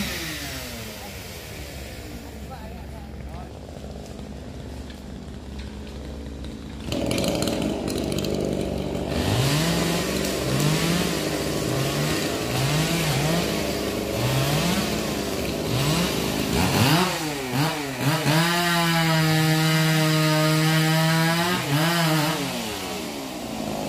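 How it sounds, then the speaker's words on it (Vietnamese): Chainsaw cutting branches of a large Xà Cừ (mahogany) tree beside a house roof, the engine idling low then revving hard in repeated high-pitched bursts, loud and close, with outdoor background noise. "Đây cưa rất là nhiều củi luôn."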